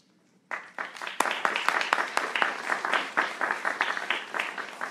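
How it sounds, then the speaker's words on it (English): A room full of people at a chamber of commerce candidate forum applauds steadily, dense hand claps starting abruptly and continuing for several seconds at a lively, even level. "We can clap at this forum."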